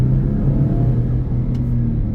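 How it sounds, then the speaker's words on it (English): A 2025 Ford Expedition SUV accelerates hard with the pedal floored near a roundabout, heard from inside the cabin as a strong, steady low engine rumble. "let's give it a little bit of the beans,"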